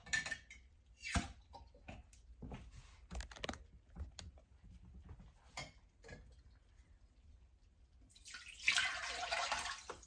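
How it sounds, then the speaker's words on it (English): Beef broth, about three quarts, is poured into a soup pot near the end, a loud rushing splash after a run of light clicks and kitchen clatter. "I'm going to be adding 3 quarts of beef broth"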